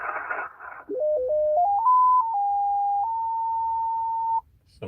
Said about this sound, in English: Some digital noise on 280.